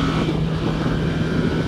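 A 2022 Kawasaki Z650RS motorcycle engine drones continuously after a downshift to third gear at around 4,000-5,000 rpm, with rushing wind noise, steady and close, without any talking.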